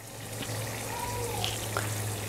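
Chillies fry in hot oil in a pan for a Nepali tomato pickle, giving a steady, even sizzling hiss that carries on without a break.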